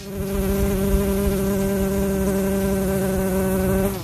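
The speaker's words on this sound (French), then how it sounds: "Il s'agit d'Euglossa, un genre d'abeille spécialisée dans la pollinisation des orchidées." A steady, loud, close insect buzz from Euglossa orchid bees, a continuous droning hum with a clear pitch that holds without pause.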